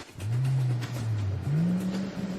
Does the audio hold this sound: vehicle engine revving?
yes